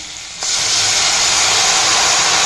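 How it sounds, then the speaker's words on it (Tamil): Tamarind water is poured into a hot pan of sautéed onion and carrot and bursts into a loud, steady sizzle close by that continues without a break. "இந்த ஸ்டேஜில் இப்போ நம்ம கரைச்சி வச்சுருக்கிற புளி ஜலத்தை விட்டுடலாம்"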